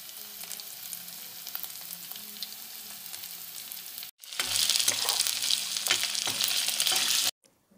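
Onion, green chilli, ginger and garlic sizzle in hot oil for an Assamese urad dal dish; a low, steady frying hiss grows much louder and fuller halfway through, then cuts off abruptly, with no talk.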